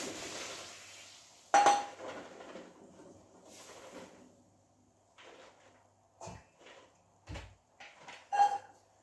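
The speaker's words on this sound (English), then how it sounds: "And the normal butter beans, I'll just drain those." Canned butter beans are drained in a kitchen, with scattered clinks and clatters of a can, dishes and utensils, a few sharp knocks and a soft liquid pour, close and moderately loud.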